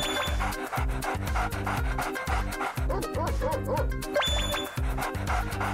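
A dog barks a few times in an animated children's show, short yips heard over a loud, driving backing track with a thumping beat.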